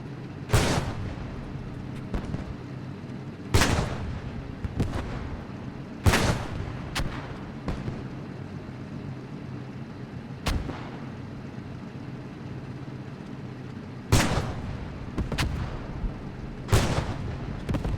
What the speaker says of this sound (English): they're just peppering the hotel with high explosive shells